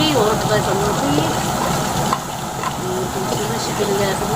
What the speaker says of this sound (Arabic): وازوده ميه ويغلي واروح ضايفه الملوخيه